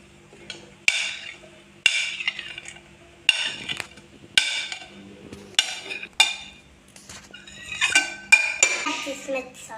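Chopped vegetables and corn tipped into a bowl for a paneer sandwich filling, with a series of sharp clinks and clatters of utensils against the dish, some pieces sliding and rustling between hits.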